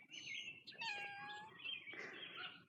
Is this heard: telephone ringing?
no